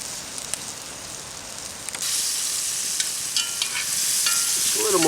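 Extra-large peeled and deveined lake shrimp sear in a hot pan, a loud continuous hissing sizzle that swells stronger partway through, with faint stirring clicks.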